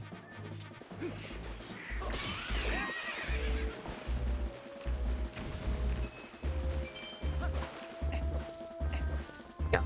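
A horse in the video game Zelda: Twilight Princess gives a loud, shrill neigh, surrounded by rhythmic clip-clop hoofbeats, a heavy thudding game soundtrack and scattered chimes.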